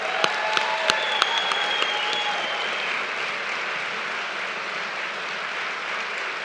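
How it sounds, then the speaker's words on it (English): An audience at a live storytelling reading event applauds its speakers, a few sharp claps up front swelling into a steady, sustained round of clapping that slowly fades. "Round of applause."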